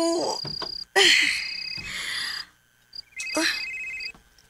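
A telephone rings in repeated electronic tone bursts, fairly close and clear, with people speaking around the rings.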